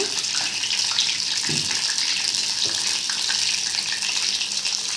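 Frying over a medium flame for apple crisps, with a continuous loud, hissing sizzle that holds steady and close throughout, broken only by faint low bumps.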